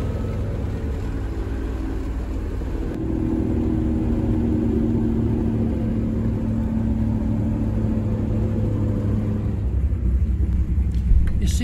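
Car engine idling after carburetor jet tuning, a low, steady rumble with a fairly even hum that deepens slightly partway through and holds constant, with a voice faintly audible over it.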